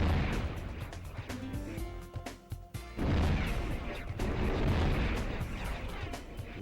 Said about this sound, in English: These shots will ricochet.